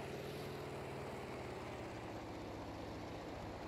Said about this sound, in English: That's actually a dogfighter plane below me